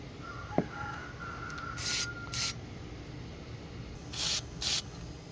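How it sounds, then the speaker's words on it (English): PB Blaster penetrating oil is sprayed from an aerosol can onto the brake lines at the master cylinder of a 1975 Corvette C3. There are four short hissing bursts in two pairs over a low background hum. "We're going to spray some PB Blaster to make sure those brake lines come loose."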